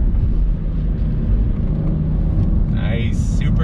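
Cadillac ATS-V with a six-speed manual accelerating hard on a highway, giving a loud, steady engine and road roar under full throttle, with a brief higher whine near the end.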